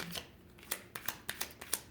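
A deck of cards being shuffled during a tarot reading: a quiet run of short, crisp riffling bursts and snaps spaced irregularly over about two seconds, with no talking.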